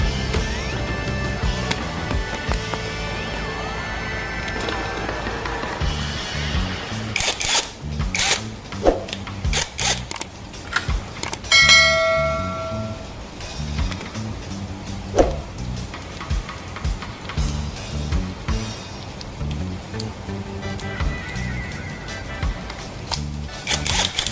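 An Ingco impact wrench loosening and removing CVT parts, giving bursts of harsh rattling and whirring hammering among clanks of metal tools, mostly loud and close, with no talk.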